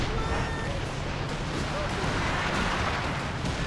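An artillery barrage lands in Company of Heroes 2, a dense, continuous rumble of blasts over a steady battle din, with speech-like voices mixed into the chaos throughout.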